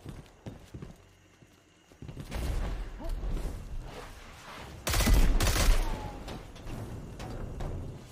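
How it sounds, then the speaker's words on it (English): Gunfire in Destiny 2 shoots down a flying target: scattered sharp shots, then a louder sustained burst of rapid fire with crashing impacts, all under a busy game soundscape. "So, up here, you're gonna shoot this thing down."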